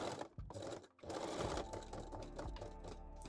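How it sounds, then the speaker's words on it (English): A sewing machine runs in steady bursts while backstitching the center back seam of a bodysuit made from a bra, with a close, continuous motor whir broken by brief pauses and restarts. "Now we can also backstitch the center back seam"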